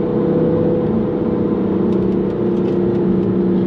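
Steady engine drone and road noise from a 2015 BMW M3 sports sedan being driven, a constant close mid-pitched hum with a few faint higher clicks, no talking heard.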